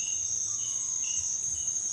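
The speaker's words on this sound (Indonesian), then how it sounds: "Jangkrik. Diam saja dia" Crickets chirp steadily at night in a campsite, a continuous high-pitched trill holding at an even level throughout with no other notable sounds.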